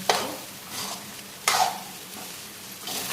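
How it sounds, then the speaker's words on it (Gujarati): Boiled rice with chicken and vegetables stirred in a hot pan, three separate scraping sweeps of the spoon rising over a soft, steady sizzle. "એને આપણે ધીરે ધીરે હલાવીશું"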